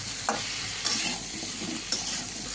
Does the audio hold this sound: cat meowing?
no